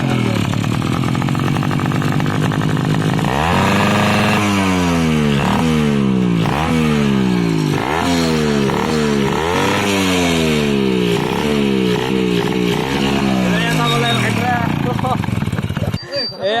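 A modified motorcycle fitted with an Akrapovic exhaust revs hard and repeatedly, its engine note rising and falling in a steady series of loud, close throttle blips, with speech faintly underneath.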